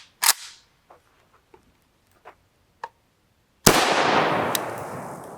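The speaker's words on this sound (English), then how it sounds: "We're going to run 20 rounds through this" Two sharp 5.45x39mm rifle shots with Hornady 60gr V-MAX rounds ring out, one at the start and another about three seconds later, the second followed by a long noisy decay, with faint clicks in between.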